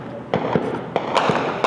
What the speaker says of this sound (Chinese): 会当听到连续的枪声